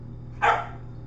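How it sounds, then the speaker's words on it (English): A single short, sharp bark from a dog indoors, moderately loud over a steady low electrical hum. "that's my dog Wide Awake"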